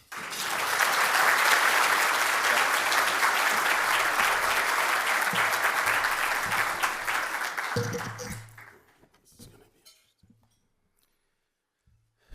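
An audience at the City Club of Cleveland applauds to welcome speaker Michael Jeans, with loud, dense clapping that holds steady for about eight seconds and then fades into scattered claps and quiet.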